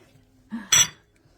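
A spoon clinks against a pot while a candy mixture with orange zest is stirred in, giving two quick metallic knocks close by in an otherwise quiet kitchen.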